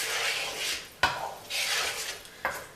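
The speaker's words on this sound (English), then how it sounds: "I'm going to stir that all up thoroughly." Corn being stirred in a pot for homemade creamed corn: a spoon scrapes in long swishing strokes, with two sharp clinks against the pot rim between the strokes.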